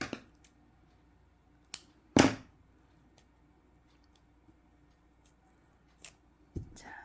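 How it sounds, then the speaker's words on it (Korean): Scissors cut yarn lengths for the hair of a macrame keychain doll: a few sharp, separate snips spaced seconds apart in a quiet room. "요거만큼의 길이로 머리카락을 잘라 놓겠습니다"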